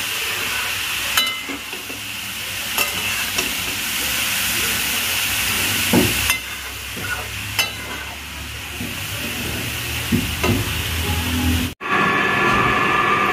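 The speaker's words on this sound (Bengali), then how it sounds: "লাউটাকে ভালো করে ভেজে নিতে হবে, একটু লাল লাল করে আমি ভেজে নেব" Steady loud sizzling and hissing of grated bottle gourd frying in a pan, with occasional scraping stirs and clinks throughout.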